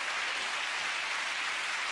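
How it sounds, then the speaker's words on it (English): A television game show studio audience applauds, a steady dense wash of clapping that holds evenly throughout. "Give a round of applause."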